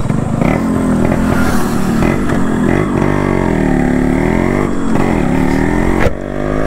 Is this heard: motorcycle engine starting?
yes